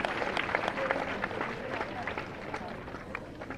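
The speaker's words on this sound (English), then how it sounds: "Could I get a clap for that?" An audience at a legal ceremony for the Bar Council of Tamil Nadu applauds, steady crowd clapping filling the hall at a moderate level, with some voices mixed in.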